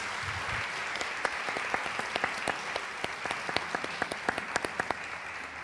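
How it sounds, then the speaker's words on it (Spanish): A conference audience applauding panel participants steadily, many hands clapping at once, with a few louder individual claps standing out. "si le podemos dar un aplauso a los participantes"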